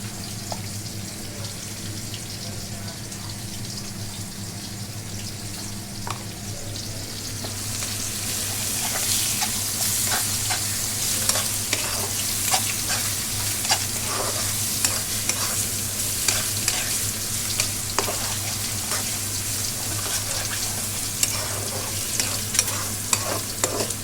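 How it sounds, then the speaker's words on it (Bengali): Spice paste with cumin and garam masala sizzles in a home kitchen pan, a quiet hiss that swells halfway through as brisk stirring and scraping strokes begin, close and steady, with no voices. "মশলা কষানোটা হয়ে গেছে"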